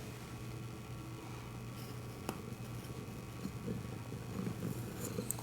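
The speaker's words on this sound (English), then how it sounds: "There's a cat under there." A cat purrs steadily nearby in a quiet indoor sewing space, a low continuous rumble with a faint tick or two and small rustles on top, no voices.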